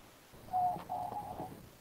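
Pet doves coo softly in a single brief, low, faint call heard alone.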